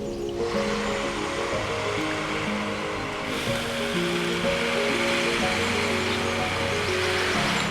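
Water sprays from a hose onto garden plants and blackcurrant bushes, making a steady, continuous rushing hiss for the whole stretch with no talking.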